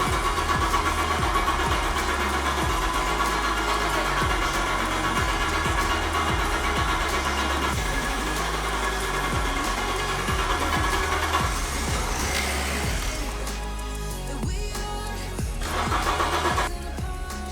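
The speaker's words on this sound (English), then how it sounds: "So that is the 106 running again." A 1993 Peugeot 106 engine turns over and runs steadily, a loud, continuous mid-pitched drone with small shifts in tone near the end and no talking.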